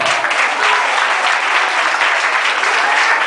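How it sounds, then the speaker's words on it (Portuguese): Steady applause from a crowd, loud and continuous for a few seconds, with no speech over it. "uma salva de palmas para ele"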